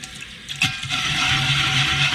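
Hot water running from a tap into a kitchen sink holding a cast iron pan, a steady close rushing hiss that swells after a short splash and continues without pause.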